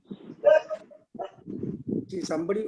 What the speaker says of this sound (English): Some dog is barking